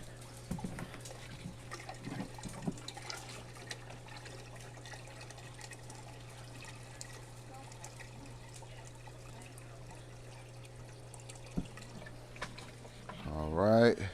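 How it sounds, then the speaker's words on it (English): Water trickles and drips quietly as it is poured into a fish tank, a faint steady flow over a low hum, with a louder splashing pour near the end. "We need to add some more water."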